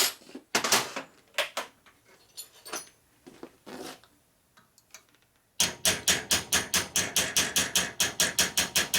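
A hammer taps on a part of a Revtech shovelhead Harley transmission during a rebuild: scattered sharp metallic knocks at first, then a fast, even run of ringing strikes, close and clear.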